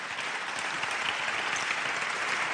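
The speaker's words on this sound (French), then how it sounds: "On peut applaudir." An audience at a national awards ceremony in France applauds, giving a dense, steady round of clapping from many hands that fills the room without pause.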